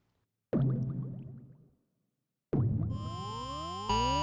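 Digital synth tones from the Meld synth in Ableton Live 12: two loud plucked notes, each decaying, then glassy sweeping and chirping partials rising and falling, alone with no talk.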